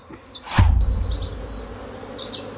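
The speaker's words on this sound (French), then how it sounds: "c'est un début d'essaimage" Honeybees buzz at an apiary in spring as a swarm begins, a steady close hum with a sharp thump near the start and a few faint bird chirps above it.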